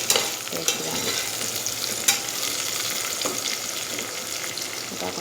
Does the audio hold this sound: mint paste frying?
yes